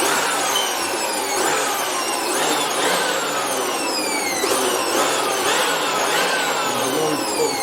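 An electric blower blasts dust out of a printer with a loud, continuous roaring whoosh, its pitch sweeping in repeating cycles as the nozzle moves, with no voices.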